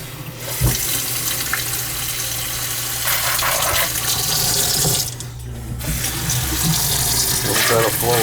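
A sink faucet with low flow runs water in a continuous, loud, close rush into the basin, holding steady with slight surges throughout.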